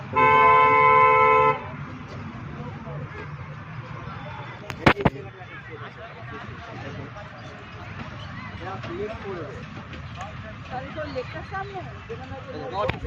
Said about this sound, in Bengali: একটা ট্রেন আসছে আমাদের দিকে ট্রেন নাকি বাস